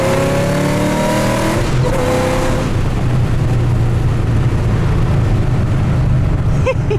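Loud, close engine roar of an approximately 800 hp 2007 Shelby GT500 accelerating hard, the exhaust note climbing steadily through the gears for several seconds as heard from inside the car.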